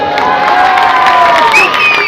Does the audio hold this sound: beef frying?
no